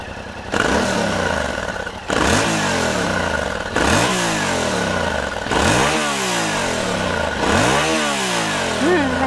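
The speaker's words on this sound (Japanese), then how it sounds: "それではエンジンをかけてみましょう。" Yamaha Tenere 700 motorcycle engine firing up, then revved in a series of five loud throttle blips with deep, rising tones, settling between each rev into a steady, throbbing idle close by.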